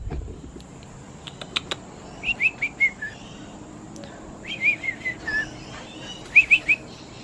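Bird chirps in short bursts of bright, whistled notes, three quick clusters separated by pauses, with a few faint ticks and clicks in the background.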